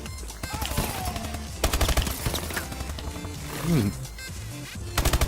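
Automatic gunfire from Call of Duty: Advanced Warfare gameplay, bursts of rapid shots mixed with explosions and game sound effects, loud and continuous throughout, with a voice talking over it at times.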